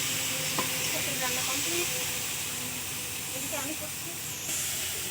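Cabbage chhechka frying in a pan in a home kitchen, a continuous hissing sizzle with occasional stirring clatter, while a voice talks faintly over it.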